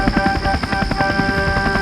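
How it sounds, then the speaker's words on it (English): Harold the helicopter buzzes overhead at night, a steady, full drone with a fast rotor chop running through it. The sound stays loud and constant throughout, with no voices. "he heard a familiar buzzing sound"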